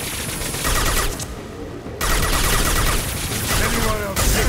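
Dense, rapid automatic gunfire in a Mass Effect Legendary Edition firefight during the Suicide Mission, loud and continuous, with bursts stacking over each other and a brief lull in the middle.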